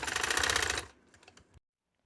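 A sewing machine rattles through a quick burst of stitching on trouser sleeve fabric, loud and rapid at first, then slowing to a few softer clicks before stopping into silence.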